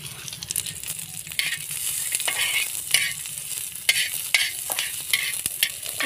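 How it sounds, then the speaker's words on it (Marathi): Coriander seeds and masala dry-roast on a hot tawa, with a steady close-up scraping and rustling of stirring and light sizzling crackle, sharpening into repeated scrapes throughout. "आता आपण हा मसाला तव्यावर भाजून घ्यायचा आहे। त्यामध्ये आपण धने टाकून घ्यायचे आहे आपल्याला।"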